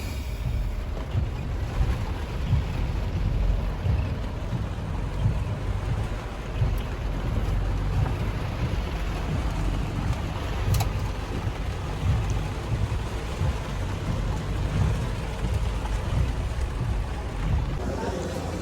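Heavy rain pours down in a steady, dense hiss with a deep low rumble beneath, constant and unbroken throughout.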